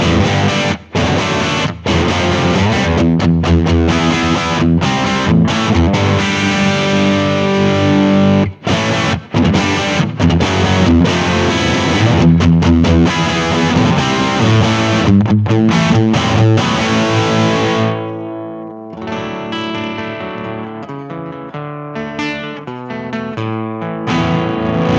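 An electric guitar runs through a KHDK No.1 Overdrive pedal with gain maxed in the low position, playing loud, thick, saturated chords and riffs with brief choppy gaps, then letting the last chord ring out and fade.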